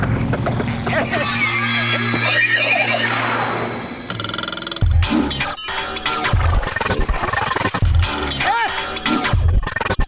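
Cartoon horse gives a loud, bright whinny amid busy music and clattering effects in a comic chase, with a shrill rising neigh cry near the end.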